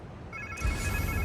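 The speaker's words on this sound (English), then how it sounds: "Sounds like somebody's phone." A mobile phone ringing in the video game Marvel's Spider-Man 2, a short electronic ringtone with steady tonal beeps that starts abruptly, joined by a low rumbling game background, brief and fairly loud.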